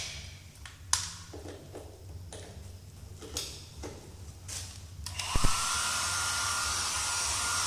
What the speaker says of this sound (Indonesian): sengaja kami meminjam hair dryer untuk memanasi supaya bidang ini cepat kering